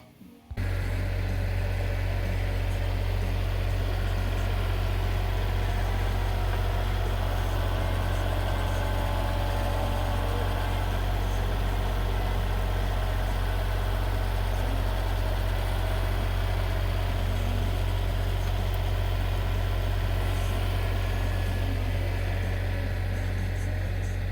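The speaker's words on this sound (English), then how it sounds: "hopefully this Kubota L3901 will pick that tote up" Kubota L3901 tractor with only ballast and rear tires on the back, its diesel engine running steadily while lifting an IBC tote of firewood; a loud, close, continuous low drone that holds constant throughout.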